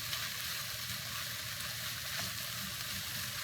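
Scrambled eggs for a breakfast burrito sizzle steadily in a hot pan, a close, continuous crackling hiss with no talking.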